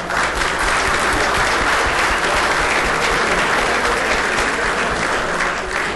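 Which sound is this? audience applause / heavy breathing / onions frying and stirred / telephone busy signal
audience applause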